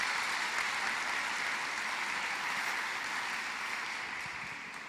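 Steady applause from a church congregation during a sermon, a dense even wash of clapping that holds for the whole stretch and fades slightly at the end, with no voices over it.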